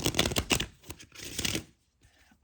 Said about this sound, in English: I'm going to do one more good shuffle